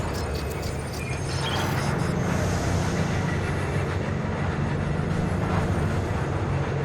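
A speeding train in Cyberpunk 2077 gives a loud, sustained roaring rumble that runs unbroken throughout, with a low mechanical drone and no speech.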